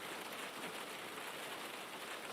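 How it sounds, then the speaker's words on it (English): Steady broadband hiss of rain falling on a surface in a racing video game on a wet track, constant and even throughout with no voices. "Sounds really good, the rain."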